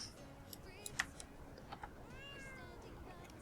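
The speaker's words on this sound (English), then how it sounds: "The only thing I don't like about the cats is they're so noisy." A pet cat in the online horse game Star Stable Online gives a few short meows, thin and fairly faint, with small clicks scattered around them and a soft drawn-out mew near the end.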